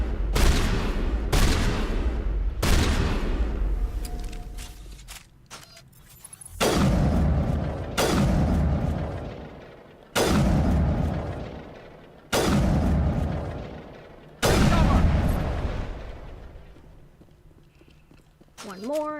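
Heavy single gunshots echo in the sci-fi shooter Mass Effect. Seven or eight booming blasts come at spaced intervals, each decaying slowly, with pauses between them and loud, close impacts.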